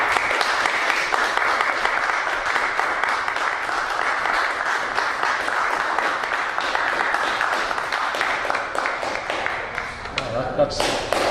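Audience applause welcoming poet Ken Holland at a Hudson Valley Poets reading: sustained, dense clapping from a room full of people, steady and loud throughout before tapering near the end.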